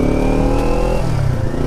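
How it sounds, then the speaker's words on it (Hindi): A Kawasaki Ninja 400 twin-cylinder motorcycle engine runs loud and close with a deep, bassy note, holding a steady throaty rumble for a brief moment. "ये भाई डबल सिलेंडर बाइक है, इतना ज़्यादा बेसी साउंड है ना भाई इस बाइक का"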